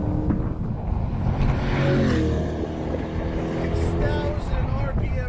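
A Corvette's engine revving hard with rising pitch sweeps, then quick smooth upshifts as it pulls toward a 6,000 RPM redline, loud and close, with someone talking over it.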